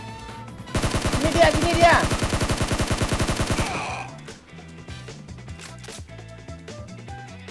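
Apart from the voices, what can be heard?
gunfire in the video game PUBG Mobile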